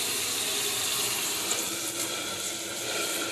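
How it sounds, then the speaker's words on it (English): Water runs steadily into a mason jar of mung bean sprouts, poured in from the bottom, a continuous close splashing trickle with no talking. "I think what I'm going to do is I'm going to water them from the bottom."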